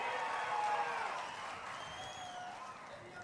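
A crowd applauding in approval of Amaravati as the capital, steady clapping and cheering heard at a distance, fading slightly toward the end, with a voice faintly over it.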